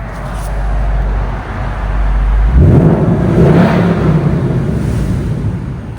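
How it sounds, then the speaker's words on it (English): A stock exhaust on a blacked-out Ford Mustang GT set to track mode rumbles at idle, then swells into a loud, deep rev that holds and slowly settles, heard from close by. "So I just put the exhaust mode in track."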